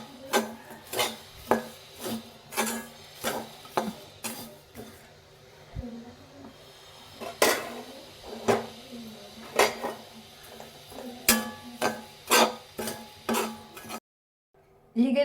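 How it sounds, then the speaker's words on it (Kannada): Powdered sugar is stirred and fried in a pan for a mango coconut laddu, with a steady series of scraping, clinking strokes of a utensil against the pan, fairly close, before a brief pause. "ಈಗೇನೆ ನಾವು ಇದನ್ನು ಫ್ರೈ ಮಾಡ್ತಾ ಇರಬೇಕು."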